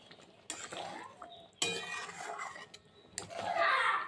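Dishes and utensils clink and scrape while prawn muitha (chingri fish dumplings) topped with chopped coriander is lifted off the heat and served, in several short bursts of clatter at close range with no talk.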